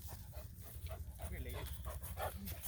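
Guardian dog puppy from a sheep farm panting and whimpering close by, quick breathy rhythm with soft whines, under a person talking.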